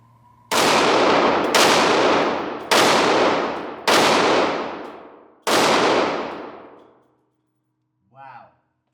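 A Ruger 57 pistol fires five loud, sharp shots at uneven intervals, each followed by a ringing decay. A brief voice follows after the last shot.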